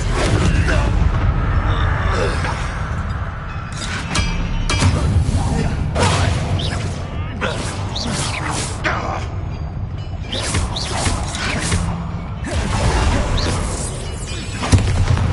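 Bombarda spell explosions in Hogwarts Legacy combat on PS5, a dense run of heavy booms and crashing blasts with whooshes, loud and continuous amid layered battle noise.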